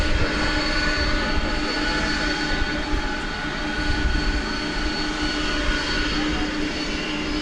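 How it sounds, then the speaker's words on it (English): A jet airliner rumbles steadily at DFW Airport, a loud continuous engine roar with a broad low drone and a constant whine that holds without a break. "we're off to somewhere. I don't know where the destination of this plane is."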